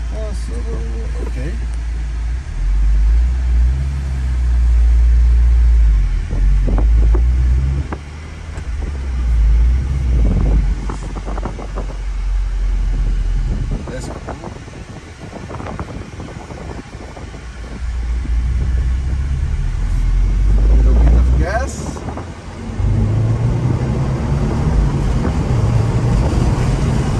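A 2023 Subaru WRX drives on an airport runway, its engine droning low and steady under heavy wind buffeting, with someone talking over it at times.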